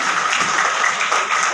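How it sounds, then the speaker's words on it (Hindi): Applause from a crowd at a garlanding ceremony for a visiting justice at a bar association event in Agra, a dense burst of many hands clapping together, loud and close, lasting only a moment. "2 बार तालियां बजती चाहिए"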